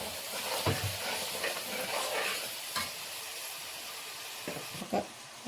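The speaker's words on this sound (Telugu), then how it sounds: "ఆ గ్రేవీ మొత్తం దీంట్లోకి వేసేసుకోవాలి." Tomato gravy poured into okra masala frying in a pan, giving a steady loud sizzle and hiss with a few clattering stirs and scrapes, heard alone.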